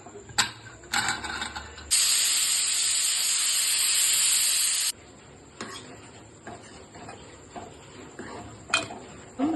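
A pressure cooker cooking idli sambar lets out one loud, sustained hissing whistle lasting about three seconds, set between scattered metallic clicks and kitchen rattles.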